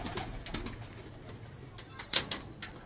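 Pigeons kept in the Kuwaiti heat coo softly in a few brief bursts, fairly faint against a quiet background.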